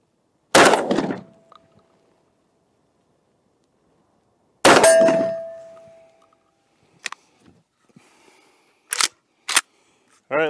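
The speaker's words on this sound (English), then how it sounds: "We've moved back from the targets so we can safely shoot at them." Two loud shotgun blasts from a Remington V3 Tac 13 12-gauge firing slugs on an outdoor range, each followed by a ringing clang from a struck steel target, then a few fainter metallic hits and clicks.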